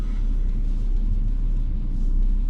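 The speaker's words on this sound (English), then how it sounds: "Just drop it into first as we're dropping into the ruts." A 4x4 on Terratoura M/T mud-terrain tyres crawls slowly through ruts in first gear, giving a steady, loud low engine rumble with no voices.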